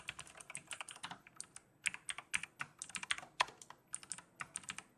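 Quick bursts of keystrokes on a computer keyboard while coding, close and crisp, arriving in uneven clusters with short pauses between them and no voices.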